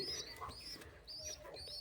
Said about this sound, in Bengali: তো এখন এখানে রয়েছে দুটো পায়রা, অগি